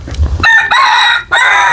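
A rooster crows loudly and close, two long harmonic calls in a row with a short gap between them, heard alone with no talking.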